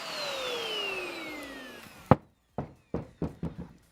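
A vacuum cleaner runs loudly with a falling whine as it winds down, followed by several sharp knocks and thumps from handling a 10-pin bowling ball.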